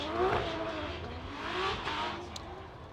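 A Formula Drift car piloted by Gauthier from Quebec City runs its sight lap at Orlando, the engine revving and rising in pitch at a distance, with broad crowd and track ambience and a brief high chirp near the end.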